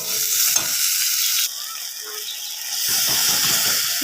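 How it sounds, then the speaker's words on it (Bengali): Spice masala with tomatoes and salt fries hard in a pan, a loud continuous sizzle and hiss with stirring scrapes that thins briefly midway, then swells again. "মশলাটা ভালোভাবে কষা হয়ে গেছে"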